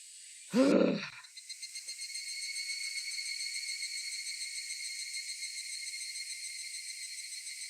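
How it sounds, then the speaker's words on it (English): Cicadas drone in a steady, pulsing chorus that sustains through nearly the whole stretch, opening with a brief low, groan-like sound before the insect song settles into an even, continuous buzz. "The cicadas are singing."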